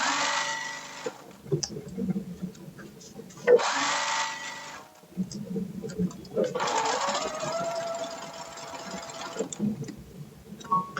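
A sewing machine stitches the final side seam of a wrap dress with inner belt ties, running in several sustained bursts separated by pauses, with a person talking over and between the runs.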